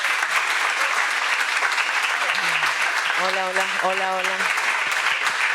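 Sustained audience applause after a panel talk at a literature event, steady and loud throughout, with a voice briefly speaking and drawn-out sung or called tones rising above the clapping midway.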